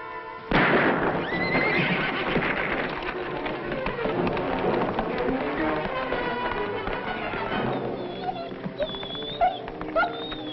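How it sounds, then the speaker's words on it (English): A spooked horse in an old western TV series lets out a loud, shrill neigh, followed by a busy mix of hoofbeats, commotion and music. "So I spook up the horse and he don't get on."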